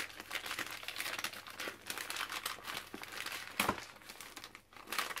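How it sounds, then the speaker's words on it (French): Gift wrapping paper on a large parcel is torn and crumpled close by, with a continuous rustling crinkle and a sharper rip partway through. "Je peux déchirer le papier, Karine, j'espère."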